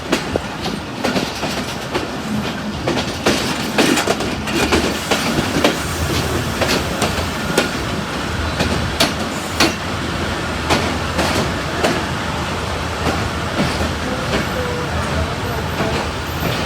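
The Chenab Express passenger train runs on rails between Sargodha and Mandi Bahauddin, giving a loud, steady rumble with rhythmic clickety-clack beats throughout while a voice talks over it.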